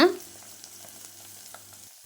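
A soft, steady sizzle of onions frying in a pan while cooking horse gram dal curry, low and continuous with a brief clatter at the start.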